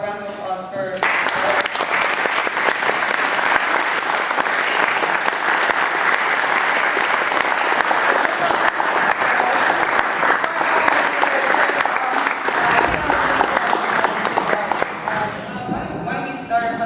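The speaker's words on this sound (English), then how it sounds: "could we get a round of applause for..." Audience applause at a live panel event, steady dense clapping filling the room from start to nearly the end, loud and continuous, then tapering off.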